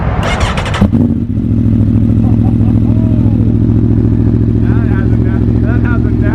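An Aprilia motorcycle with a full exhaust system starts with a rough cranking clatter, then settles into a loud, close, steady idle, with people speaking briefly over it.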